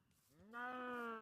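A cow moos in the video game Minecraft: a single drawn-out, rising bovine call heard close and alone.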